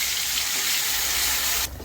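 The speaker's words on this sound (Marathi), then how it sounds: "थोडंसं पाणी टाकून घेतलं त्यांनी" Water pours in a steady, loud gushing stream into a pot of cooking chicken curry, cut off abruptly after under two seconds.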